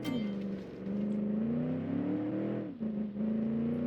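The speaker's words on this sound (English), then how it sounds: "Listen to that V8 noise." The V8 engine of a 1946 Willys Jeep pulls hard under acceleration, a close, loud, droning growl that climbs in pitch, dips briefly as if shifting, then picks up again, with no talking.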